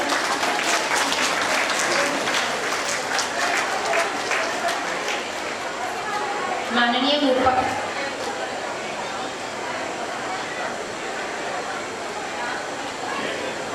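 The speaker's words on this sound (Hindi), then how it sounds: "सभी तालियों से उनका स्वागत करें" Audience applauding to welcome a guest at a trust's notebook distribution event, clapping strongest at the start then thinning, with crowd chatter and a brief voice or tone standing out midway.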